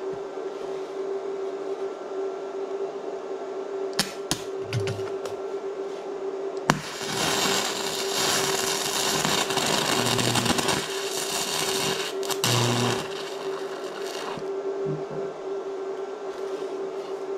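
A Bestarc MIG145 multiprocess welder runs MIG welding on thin metal, burning through at too high a setting. A steady electrical hum gives way to several seconds of loud, broadband crackling arc noise that stops and starts before the hum returns.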